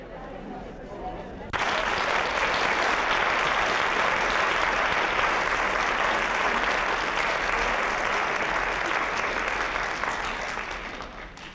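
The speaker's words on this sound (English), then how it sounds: "your warm applause is good for her ears" After a quiet start, an audience breaks into loud, sustained applause that continues steadily and then begins to taper off at the end.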